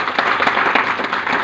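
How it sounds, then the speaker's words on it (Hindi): Audience applause in a hall after an ayurvedic product talk, a dense steady patter of clapping throughout with no voices over it. "एक बार इसके लिए जोरदार ताली।"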